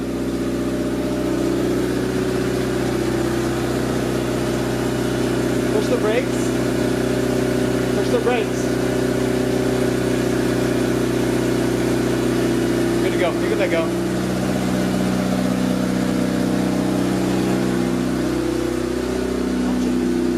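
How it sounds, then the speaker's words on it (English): A Honda CRX engine idles steadily as it warms up after a build, a constant low hum with a slight rev partway through, while people nearby talk over it. "We're going to let it idle up and let it warm up."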